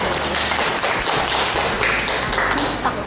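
A burst of steady, dense hand clapping, close and fairly loud, running evenly for about three seconds with no talking over it.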